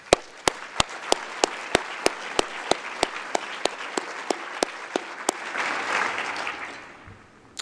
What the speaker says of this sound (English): I think we should give Mike Cooley one more round of applause.